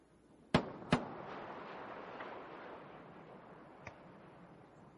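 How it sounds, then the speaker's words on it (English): Two sharp sonic booms from the Space Shuttle Endeavour arriving at the landing site, a quick double crack a moment apart, followed by a rolling outdoor rumble and a faint third thump, with no talk. "Sonic booms audible at the landing site."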